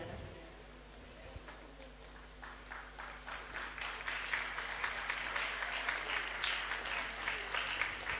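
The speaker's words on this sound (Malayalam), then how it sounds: "നല്ലൊരു കയ്യടി കൊടുക്കാൻ നമുക്ക്." An audience at a temple gathering breaks into applause, starting faint and swelling into steady, dense clapping that continues to the end, heard from a moderate distance.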